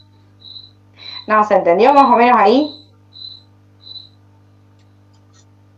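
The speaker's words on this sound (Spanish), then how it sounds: "Hay una compañera que dice que está como el grillo." Cricket-like chirps sound in short, high, evenly spaced bursts, faint and steady in the background, while a person speaks over the middle stretch.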